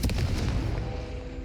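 A Confringo fire spell blasts in the game Hogwarts Legacy, a single close, heavy boom that rumbles and fades over a second or so.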